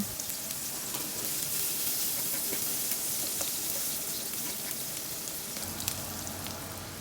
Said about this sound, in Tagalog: sa same pan ay mag start na rin ako na maggisa ng sibuyas at bawang